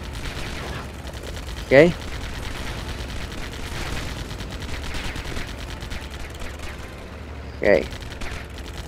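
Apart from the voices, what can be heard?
gunfire shooting turrets in Lego Batman video game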